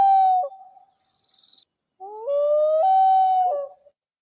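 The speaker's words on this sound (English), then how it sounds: "It's a loon." A loon gives a wailing, tremolo-tinged call, a clear sustained tone that breaks off, then returns in a longer rising, quavering wail, close and alone.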